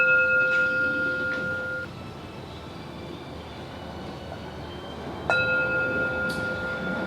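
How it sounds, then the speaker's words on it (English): A meditation bell at a Buddhist service: a clear, sustained ringing tone fades off in a quiet room, then a fresh strike rings out bright and lingering near the end. "Please hit the bell, we start."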